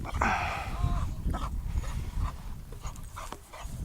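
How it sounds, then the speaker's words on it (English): A dog panting near a motorcycle rider on a trail in the Lake District, rapid breathy huffs under heavy wind and engine rumble, with some faint whimpering. "we have a dog."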